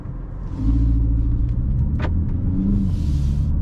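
A BMW X1 M35i pulls away in drive, its engine a steady low rumble that swells after a quiet start and holds at a constant level, with a few faint clicks on top and no talking.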